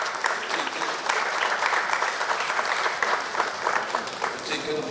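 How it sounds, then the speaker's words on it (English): A crowd at a steel orchestra celebration gives the mayor a round of applause, with continuous, lively clapping at an even level throughout. "give His Worship the Mayor a round of applause"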